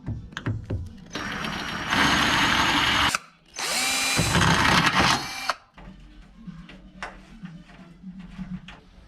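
A power drill bores through the hood of a BMW E21/E28 for a hood pin install: two loud, sustained drilling bursts, then quieter metallic handling clatter.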